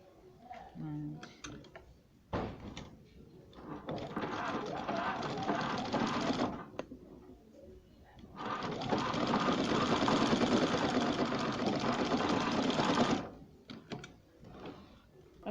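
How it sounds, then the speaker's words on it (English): A sewing machine stitching a dart in fabric runs in two loud, steady whirring bursts, a shorter one then a longer one, separated by quiet pauses with soft handling noises. "I want to sew it now."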